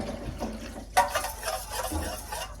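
Water is poured and splashed while rinsing squid ink at a kitchen sink. A sharp splash comes near the middle, and soft trickling and faint clinks follow.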